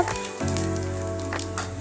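Cumin and fennel seeds frying in hot oil give a loud, steady sizzle up close, continuous with small crackling bursts and no talking.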